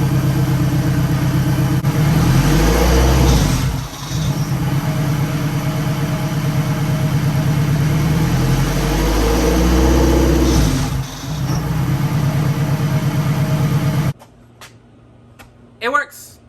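An AWD Honda Del Sol engine revs up through the gears, climbing in pitch, dropping briefly at two shifts, then climbing again before cutting off abruptly into near quiet with faint sounds.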